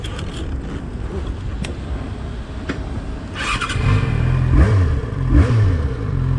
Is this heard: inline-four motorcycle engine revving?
yes